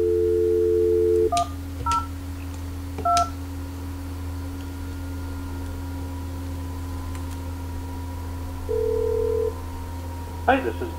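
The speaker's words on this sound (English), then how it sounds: "dial an extension number of an internal extension or outside caller" DTMF keypad tones from a Polycom 450 IP desk phone on an Asterisk VoIP system: a steady dial tone, then several short distinct beeps dialing an extension, another brief tone later and a faint click near the end.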